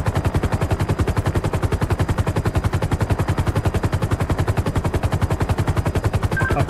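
Sustained rapid automatic gunfire from a suspect shooting back, loud and close, with steady evenly spaced bursts continuing without pause and no talking over it.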